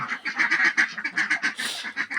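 A flock of domestic ducks, freshly washed and resting on dry ground, keeps up a rapid, rhythmic run of close, fairly loud quacks, about four or five calls per second, with no talking over them.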